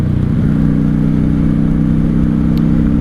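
A 1995 Honda Shadow VLX 600 V-twin motorcycle cruises in fourth gear, its engine droning in a loud, steady low hum with constant wind rush from up close.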